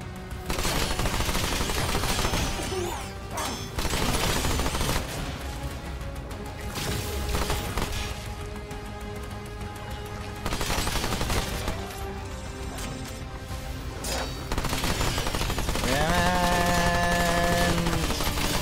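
Gunfire rattles in the video game Remnant 2, coming in several loud bursts of rapid shots with short pauses between them, mixed with crashes and game effects.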